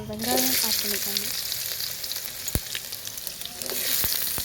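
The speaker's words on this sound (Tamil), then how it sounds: "சீரகம் பொரிஞ்சதும் தேவையான அளவு வெங்காயம் ஆட் பண்ணிக்கோங்க" Onions and cumin seeds frying in hot oil in a pan for cauliflower fry, a steady dense sizzle with brief stirring scrapes and a couple of sharp pops, close and fairly loud without any talk.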